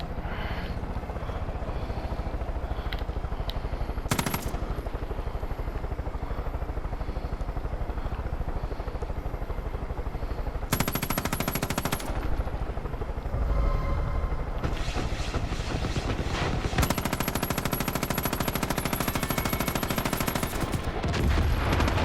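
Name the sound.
helicopter in video game Far Cry 5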